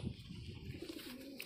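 Pigeons coo softly in a low, throaty murmur, a few short rolling calls close by over quiet background noise, with a longer drawn-out coo near the end.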